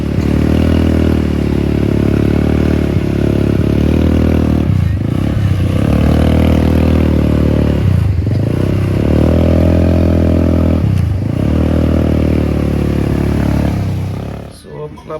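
Motorcycle ride in Odisha with a steady engine drone and wind rumble throughout, rising and dipping briefly a few times, fading out at the very end; no one speaks.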